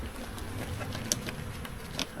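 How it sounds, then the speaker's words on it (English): Bees buzzing inside a hive built into a recliner couch, a steady close drone broken by brief ticking and tapping sounds, with no voices. "I got a lot of bees to vacuum up there."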